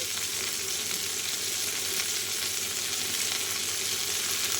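Vegetables with green chilies and salt fry in a pan for a spicy vegetarian ghyat, giving a steady, dense sizzle that holds evenly throughout with no voices.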